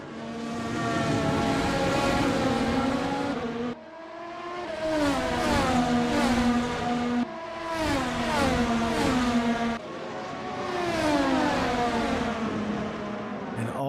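Race car engines at Interlagos scream loudly while braking into turn 10, downshifting three gears with paddle shifters. Their sustained, sweeping roars break at several gear changes, pitch blipping up and falling off between shifts.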